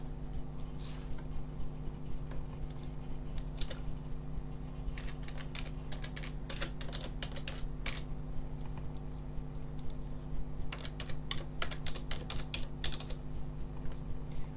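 Computer keyboard typing while entering a contact name into an SMS contacts list, heard as bursts of quick keystroke clicks over a steady low electrical hum, close and fairly quiet.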